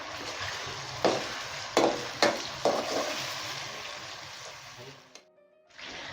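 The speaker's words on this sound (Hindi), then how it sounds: "अच्छे से लहसुन अदरक को भून लेना है ताकि इसमें स्मेल ना रहे" Tomato sizzling in hot oil with ginger garlic paste for Hyderabadi beef yakhni pulao, a steady loud fry broken by several sharp stirring scrapes, then a brief drop to near silence before the sizzle returns.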